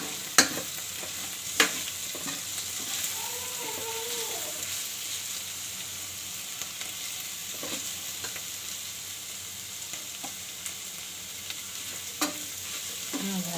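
Vegetable bhaji with cumin frying in a rice cooker, a steady close sizzle throughout with occasional sharp scrapes and taps of a spatula stirring the pot.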